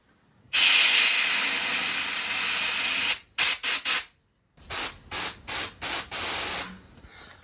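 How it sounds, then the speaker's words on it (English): Compressed air blown backwards through a motorcycle front brake line, heard as one long loud hiss and then a series of short sharp bursts, close and with no talk over it. "try to blow compressed air backwards through it"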